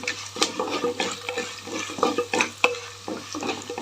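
Coarsely pounded ginger-garlic paste stirred in a hot pan for vangi bath rice, with soft sizzling and frying under repeated scraping and stirring clicks.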